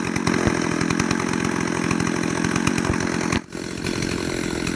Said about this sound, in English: I should probably start taking the chainsaw for something of a walk.